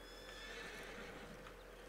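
A horse neighs loudly in the open world of the video game Red Dead Redemption 2, a single drawn-out whinny with faint hoof clops beneath it.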